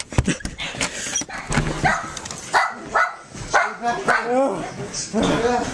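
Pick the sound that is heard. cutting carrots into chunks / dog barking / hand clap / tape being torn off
dog barking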